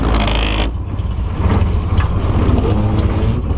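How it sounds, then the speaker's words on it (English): A loud, close Nissan 240SX engine idles with a steady low rumble throughout, after a brief higher whine fades at the start. "At least it's idling."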